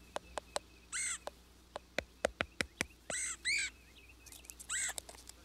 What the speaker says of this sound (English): America's best known and perhaps best loved member of the family, the red-headed woodpecker